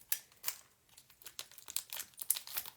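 Tape pulled and pressed down to close a mold for casting with a flour and water mixture: a quiet, close series of crinkly, crackling bursts and small tearing sounds.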